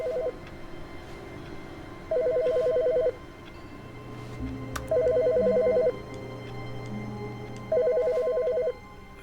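Telephone ringing in the video game The Stanley Parable: three evenly spaced electronic ring bursts, each about a second long, clear and close over quiet ambient game sound.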